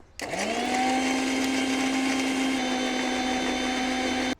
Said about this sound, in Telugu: మీకు దీన్ని ఇలా మూత పెట్టుకొని కొంచెం గ్రైండ్ చేసుకోండి